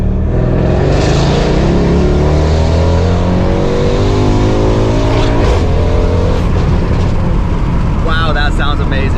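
Engine of a rebuilt 2019 Mercedes C63 AMG revving hard on a test drive, a loud, sustained roar rising through the revs with gear changes, heard from inside the car, while people talk over it.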